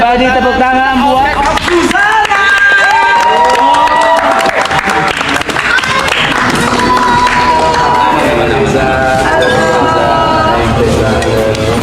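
Audience applause and cheering from a dense crowd as the cast of the horror film Suzzanna arrives at a Marapthon event, loud and continuous under constant talk, voices and music.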